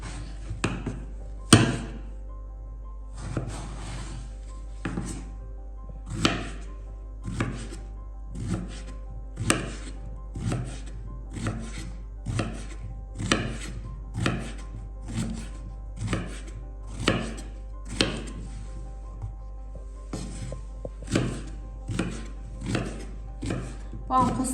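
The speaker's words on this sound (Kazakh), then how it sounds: "Баклажанды мінекей осылай тураймыз." Eggplant being sliced with a knife on a cutting board, a long steady series of crisp chopping knocks at an even rhythm, close and clear over a low steady hum, no talk.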